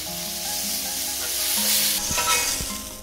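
Peach halves sizzle on a hot grill, a continuous close hiss with a few soft taps and scrapes, while background music plays underneath and no one speaks.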